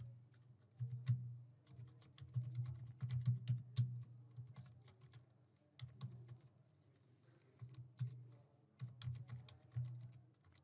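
A name and email address being typed on a computer keyboard: quiet, close keystrokes in quick irregular bursts with short pauses, no voices.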